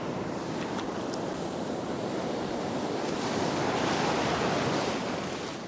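Surf rolls onto an Australian beach as the tide comes in, a continuous broad wash of breaking waves with wind buffeting the microphone, loud and steady with no voices.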